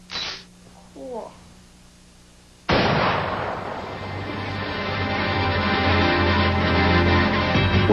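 A shotgun goes off by accident: a sudden, loud blast after a few seconds of quiet voices, followed by a long, rough roar that keeps building to the end.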